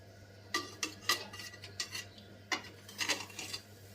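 A spoon or utensil scraping and clinking in a pot as tomato biryani is gently stirred, giving a series of soft, irregular metallic taps and scrapes at close range with a steady low hum underneath and no talking.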